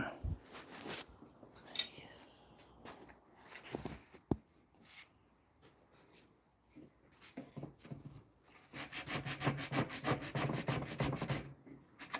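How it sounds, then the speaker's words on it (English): Sandpaper rubs over wood in the corner of a cabinet door, with scattered scratchy strokes early on, then a burst of quick back-and-forth rasping toward the end, fairly close and alone. "I'm going to sand this and smooth this out"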